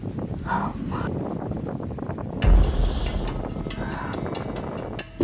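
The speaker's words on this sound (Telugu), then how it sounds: "ఏందో ఈ సుడిగాలి కింద పడేసింది." A whirlwind blowing on a hot summer day, a rushing, breathy roar of wind that swells into a loud buffeting gust halfway through and keeps sweeping on.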